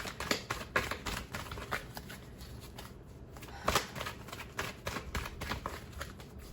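A deck of tarot cards shuffled by hand, with quick riffling patters and soft slaps in a steady run of bursts, close and fairly quiet, with no voice.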